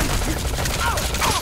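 Gunfire in Metal Gear Solid 5: The Phantom Pain, a quick cluster of sharp game shots over a steady rumbling backdrop, close and fairly loud, with no voice.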